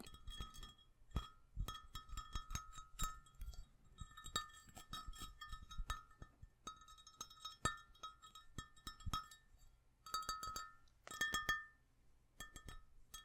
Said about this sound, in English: I wasn't planning on making glass sounds, but they're some of my favorites